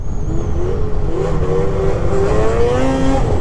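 A Polaris 600 Catalyst snowmobile engine revs hard and high, a loud continuous whine climbing in pitch close by.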